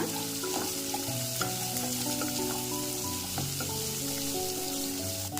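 Sliced onions fry in oil for a mushroom samosa filling, giving a continuous close sizzle with scraping, stirring clatter from a spoon against the pan, no one speaking.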